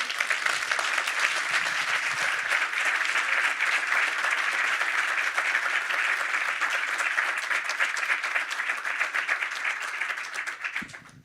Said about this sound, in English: if you give us a resounding clap in this room